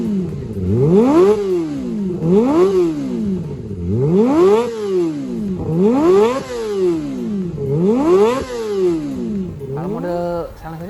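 A Kawasaki Ninja ZX25R fitted with a WRX Racing exhaust revs in five or six sharp, rising-and-falling blips, loud and close, with a rapid high-revving rasp and crackle between throttle stabs.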